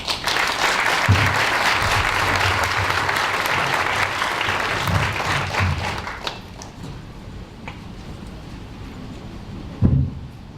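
An audience at a ceremony launching Haiti Je M'engage breaks into dense, loud applause for about six seconds, which then fades to scattered claps, light taps and a single thump near the end.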